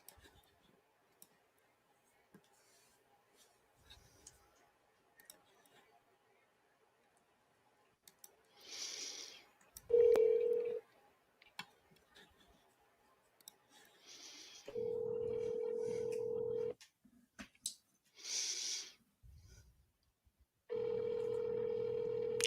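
A telephone rings in a played recording of a phone call, heard as three steady tone bursts of ringing through the line, separated by quiet gaps and scattered clicks.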